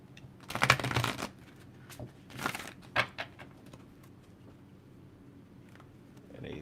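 Playing cards being shuffled in a few quick riffling bursts, close and fairly soft, with quieter pauses between and a faint background hum.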